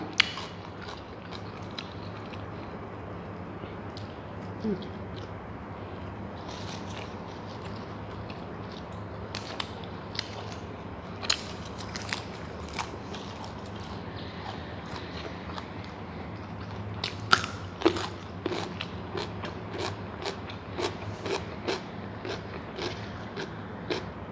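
Someone eats grilled catfish laab with hot sticky rice, giving close, quiet, irregular chewing and soft crunchy bites over a low steady background, with no speech.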